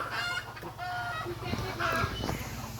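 A hen clucks in a series of short, fairly close calls in a rural yard, with soft voices faintly underneath.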